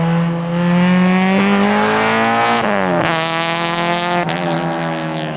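Engine-swapped Honda Civic at speed on a warm, dry race track, its engine loud and close with steady rising pitch as it accelerates, two sharp drops in pitch as it shifts gears or lifts for corners, no talking.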